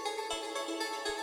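Bright electronic synth lead thickened with added octaves, a wide sustained tone with layered harmonics playing steadily and loud, with brief low thumps pulsing twice beneath it; no voices.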